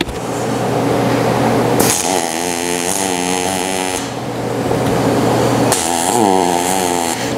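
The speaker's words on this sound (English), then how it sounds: "try and get that centered the best you can over the washer and the bolt that's busted off. And weld that in place." Arc welding a washer onto a broken-off bolt stub, a loud continuous crackling buzz in two long runs separated by a short pause, with a steady electrical hum underneath.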